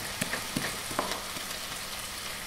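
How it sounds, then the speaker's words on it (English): Chicken pieces browning in a frying pan for a quick chicken curry, giving a steady low sizzle throughout with a few soft clicks and taps, heard alone without talk. "When the chicken is nicely browning, turn it over."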